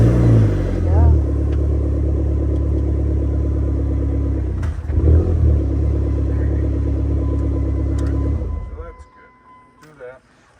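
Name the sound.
Dodge SRT-4 engine running after being started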